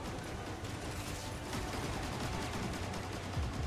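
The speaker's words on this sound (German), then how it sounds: "Relativ viele Schüsse hinter uns" A dense, continuous volley of gunfire rattles through a scene in Star Wars Jedi: Survivor, a sustained mass of overlapping shots at moderate distance with no gaps, and no speech over it.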